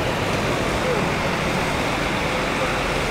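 Dense, steady roar of a bus and surrounding traffic at the entrance to Pondok Pinang terminal, loud and continuous broadband rumble with no break.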